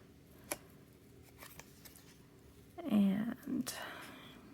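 Scissors snip through paper during paper piecing for a quilt block, giving a couple of close, crisp cuts after a quiet pause, with soft whispered talk nearby.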